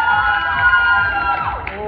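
A crowd at a year-end company party cheering loudly, with sustained high whooping voices blended into a dense, close roar across the short burst.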